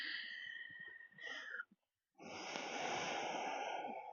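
Slow, steady breathing during a gentle yoga session for the lower back, close and breathy, a long airy breath, a brief pause, then another sustained breath.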